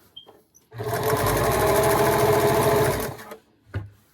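Sewing machine stitching a concha blanket in a straight seam, one close, steady whirring burst of rapid needle strokes lasting about two and a half seconds, with brief clicks before and after.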